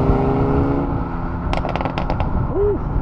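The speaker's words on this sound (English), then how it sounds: "Nice little pop from the I-30 in there." A Hyundai i30 accelerating away from the TRAX event at Silverstone fires a quick burst of about six sharp crackling exhaust pops midway, over a steady engine drone.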